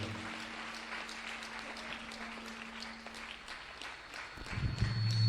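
A church congregation applauding, a dense sustained crackle of many hands clapping at a moderate distance, with a low thump and rise in volume near the end.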